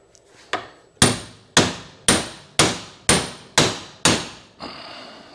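Sharp metallic hammer blows drive a lower ball joint into the steering knuckle of a Honda TRX400FA Rancher ATV through a socket, eight loud, evenly spaced strikes ringing close up with no talk.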